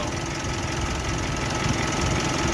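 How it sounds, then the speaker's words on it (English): A Mitsubishi Outlander's air conditioning compressor engages during an at-home refrigerant refill, blending into a loud, steady engine drone with a fast, even knocking rumble throughout. "we can already hear the compressor kicking in"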